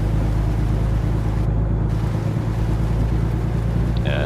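A truck engine labors in 10th gear at about 50 mph on Interstate 5, a loud, constant low droning rumble that fills the cab without a break.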